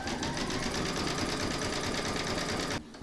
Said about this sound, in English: you're going to stitch round number 3, and that's going to do the decorative detail and the satin stitch border